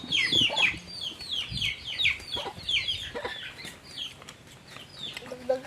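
Frantic clucking and shrill squawks pour from chickens being chased around a countryside farm, repeated close calls with a brief flutter of wings and faint voices nearby.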